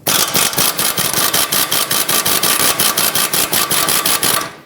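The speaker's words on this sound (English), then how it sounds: "I'm going to try and break it free with my air impact first." An air impact wrench hammers loudly and continuously on a rusted sway bar link nut of a Nissan Pathfinder, a rapid, even rattle of blows throughout.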